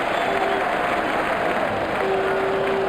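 A stadium crowd in the cricket video game Sachin Saga Pro Cricket roars and cheers continuously after a big hit, a steady wash of noise with a faint game tone over it.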